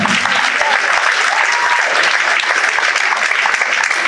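An audience at a fashion show breaks into dense, sustained applause, steady clapping filling the room for several seconds with a faint voice beneath.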